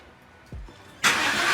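Engine of an abandoned 1999 Saleen Mustang undergoing restoration, given gas: a low mechanical thump, then a sudden loud roaring rush of engine noise that holds steady to the end, close by.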